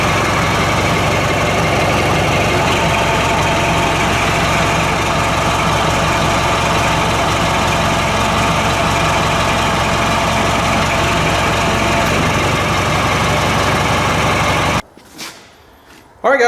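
A Ford 5610 tractor engine idles loud and steady with a heavy low rumble for about fifteen seconds, then cuts off abruptly, leaving brief quiet before another burst of sound.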